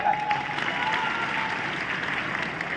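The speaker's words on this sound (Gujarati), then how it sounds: "એકવાર જોરદાર તાળી પાડો" Steady crowd clapping from an audience at a Harmony Hangama business event in Gandhinagar, a continuous moderate wash of applause with a faint tone in the background.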